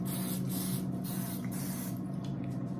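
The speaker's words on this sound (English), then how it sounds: "I always use spray butter just because it's easy." Spray butter hisses from an aerosol can in steady, continuous bursts as it coats spring rolls before air frying, close and loud with no talking.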